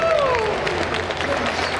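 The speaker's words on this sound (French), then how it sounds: "On peut applaudir Rosa, s'il vous plaît." Brief burst of audience clapping at a live video game competition, a dense, steady patter of applause lasting a couple of seconds with crowd noise and a voice faintly underneath.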